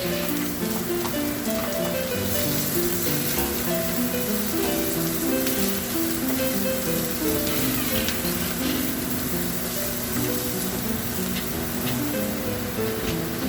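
Onions sautéing in hot oil with browned garlic in a pot for chicken sotanghon soup, a steady, dense, close sizzle holding at an even level throughout, with faint musical sound underneath.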